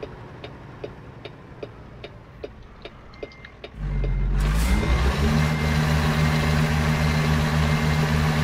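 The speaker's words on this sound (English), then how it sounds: "I can hear my hazard lights flashing." Truck hazard lights in American Truck Simulator tick in a regular, even beat for a few seconds before a loud engine drone swells and covers them, with no talk.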